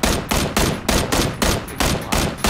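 Rapid, evenly spaced gunshots in PUBG, about eight loud, close reports in quick succession over a couple of seconds, sharp and punchy with no talking over them.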